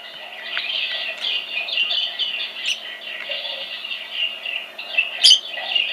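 A budgie in an online video chirps steadily, a continuous stream of near, bright warbles and tweets with a few sharper squawks toward the end.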